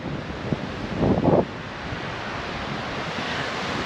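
Ocean surf washing onto a long beach on the Thai coast between Hua Hin and Pran Buri, a steady broad roar with wind buffeting the microphone and one louder wave surge early on.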